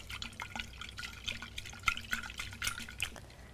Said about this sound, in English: Swirl the flask to mix the contents.